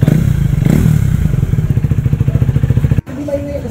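A KTM Duke 390 or Yamaha Aerox V2 motorcycle fitted with a cheap aftermarket exhaust pipe idles and revs loudly up close, a raspy pulsing drone that cuts off abruptly, followed by faint background sound.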